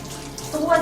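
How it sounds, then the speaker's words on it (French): A faucet runs into a sink while hands are wetted under the stream, a short close burst of flowing water that swells toward the end. "Régler l'écoulement de l'eau du robinet et se mouiller complètement les mains et les poignets."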